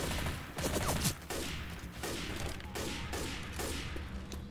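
Repeated gunfire in Left 4 Dead 2 aimed at mud men, a series of fairly even shots over a continuous low rumble of game noise, mid-distance and moderately loud.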